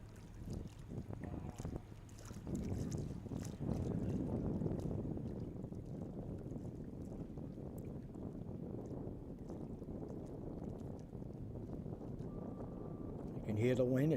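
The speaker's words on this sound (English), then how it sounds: "You can hear the wind, it's picking up a little." Wind picks up over a large open boating pond, a low, steady rushing buffet that swells and holds, with faint voices now and then.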